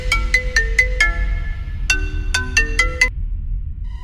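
A mobile phone rings nearby with a loud electronic melodic tone in two quick bursts of repeated notes, then falls quiet at the end.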